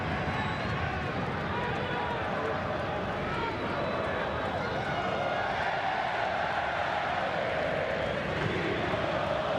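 A stadium crowd at a Concacaf Gold Cup match between Costa Rica and Panama roars and chants in a dense, continuous wash of noise, with a commentator speaking over it.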